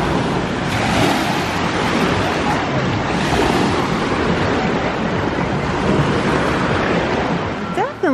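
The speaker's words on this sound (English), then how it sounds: "Listen to those waves crashing." Ocean surf crashing against the shore on a sunny day, a loud, continuous roar of breaking waves with wind buffeting the microphone and no talking heard.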